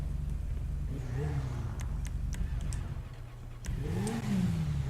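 Kuma motorcycle engine in the GTA video game revving hard, a steady loud motor drone with rising and falling pitch sweeps, easing briefly before surging again near the end.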